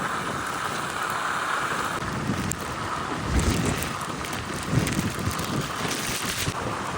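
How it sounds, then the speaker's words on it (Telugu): A dense, steady hiss of heavy Cyclone Montha rain in Kakinada, India, mixed with gusty wind rumble, continuous throughout with no voices. "ఇప్పుడు చాలా పడుతుంది వర్షం"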